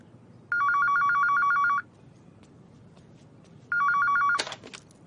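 A telephone bell rings in two long, loud bursts separated by a quiet gap, in a scene from a 2021 Indonesian comedy film, with a brief clatter at the end of the second ring.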